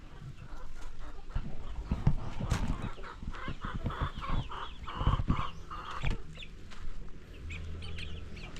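Native chickens cluck and chatter nearby in a coop alongside chicks, a busy overlapping run of clucks with other faint farmyard noise.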